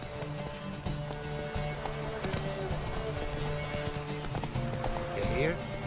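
Horse hooves clip-clopping in a gallop in The Witcher 3, a steady drumming rhythm beneath a game soundscape of music and ambient tones, with a whinny-like call near the end.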